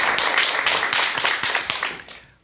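A brief burst of clapping from a lecture audience welcoming the speaker, steady for about two seconds before fading out.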